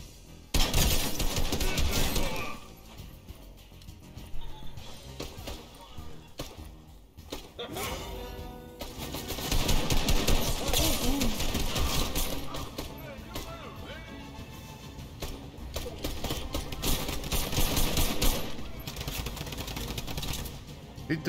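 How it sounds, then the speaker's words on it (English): Enemy gunfire in the video game Fortnite, bursts of shots crackling through the mix at moderate loudness, with someone talking over the action throughout. "Oh, are they in there firing on them?"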